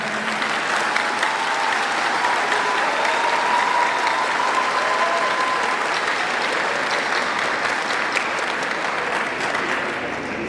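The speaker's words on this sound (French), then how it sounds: "Votre applaudissement m'invite à le redire" An audience applauds a political speech, a loud, dense, steady clapping from a large crowd that continues for the whole stretch.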